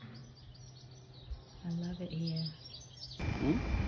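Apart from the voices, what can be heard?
birds singing on a coastal hiking trail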